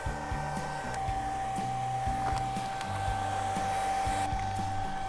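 Heat tool blowing hot air to lift wall decals off a wall: a steady close whirring blower hum with a sustained tone, alongside intermittent rhythmic mechanical thumps.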